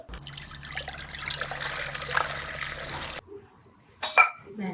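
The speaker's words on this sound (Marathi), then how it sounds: "ही आता भगर आपण आधी धुवून घेऊया स्वच्छ" Barnyard millet (bhagar) washed in water in a vessel, with a sloshing, trickling wash that runs for about three seconds, then stops, followed by a couple of brief splashes, close and moderately quiet.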